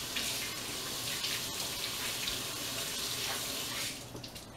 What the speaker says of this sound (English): And now I have to wash my hands.